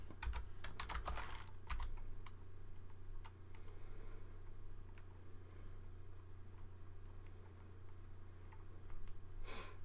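Quick bursts of typing on a computer keyboard as a terminal command is entered, close and crisp, a dense flurry of keystrokes at the start followed by sparser taps and pauses over a low hum.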